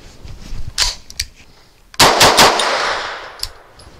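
Gunshots from a Grand Power Stribog SP9 A3 firing Winchester M1152 ammunition: a few sharp separate shots followed by a quick burst of three loud rounds with ringing echo.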